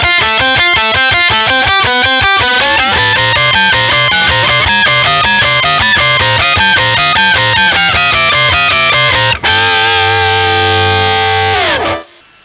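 Electric guitar harmonized by a Digitech Whammy pedal, loud distorted notes with a shifted harmony voice stacked on top, a steady run that settles into a held chord and cuts off at the end.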